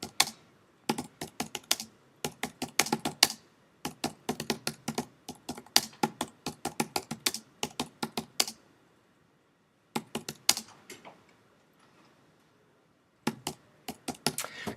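Bursts of rapid clicking keystrokes on a computer keyboard, fairly close, come in several runs with brief pauses between them and a longer quiet gap near the end.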